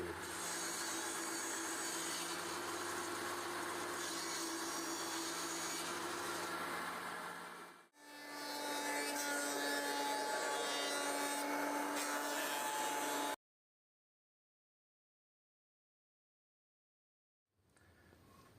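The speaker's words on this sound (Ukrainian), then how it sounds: "зараз нам лишається розрізати на 4 частинки цю детальку" A small wooden workpiece cut from a 50 mm board being sawn into four narrow strips with a power saw, a loud continuous whining cut in two long passes separated by a brief dip, then silence.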